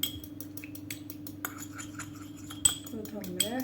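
A spoon clinks against a bowl while stirring egg yolks with a little milk for brioche dough, a few sharp light taps scattered over steady background hum, with someone speaking briefly.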